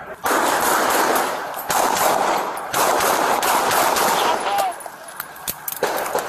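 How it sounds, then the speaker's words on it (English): Rapid bursts of gunfire from a police shootout recorded on a bodycam, loud and close, with dense volleys of shots broken by brief pauses and tapering toward the end. "There's three cops over here right now that are shooting."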